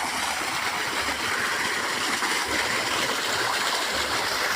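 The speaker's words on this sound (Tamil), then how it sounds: "தண்ணி வருது" Water rushes continuously on a farm with banana trees, a loud, steady hiss of flowing water close by with a low rumble underneath and no pauses.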